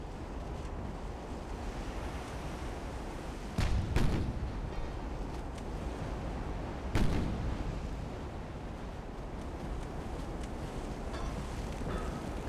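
Naval guns fire in the warship battle game Ultimate Admiral: Dreadnoughts, two distant booming shots several seconds apart over a constant wash of ocean and wind.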